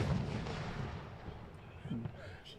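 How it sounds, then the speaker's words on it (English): Fireworks thump and crackle in the background at an outdoor cricket match, several muffled booms under steady crowd noise and a commentator's voice. "fireworks going off in the background"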